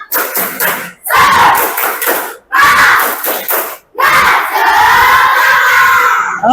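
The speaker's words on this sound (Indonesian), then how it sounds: "Kita akan melakukan ice breaking, yaitu dengan melakukan tepuk semangat." A classroom of fifth-grade schoolchildren bursts into a loud, energetic tepuk semangat chant, shouting in unison between quick bursts of rhythmic clapping, with short pauses separating each rousing phrase before a final sustained group cheer.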